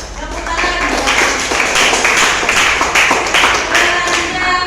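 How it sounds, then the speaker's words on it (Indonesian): Students clap in a classroom during a teacher-training lesson at Universitas Muhammadiyah Cirebon, a steady burst of handclaps lasting several seconds with some voices mixed in. "Tepuk tangan."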